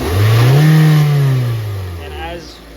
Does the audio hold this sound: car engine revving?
yes